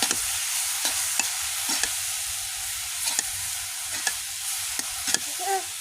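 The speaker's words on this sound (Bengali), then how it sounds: "নাহলে শাক দলা বেঁধে যাবে এইভাবে নাড়তে হবে তাহলে মানে শাকটা ঝরঝরা হবে" Greens frying in a pan, stirred so they stay loose, a constant sizzle broken by regular spatula scrapes and taps against the pan, near and clear, with no voices.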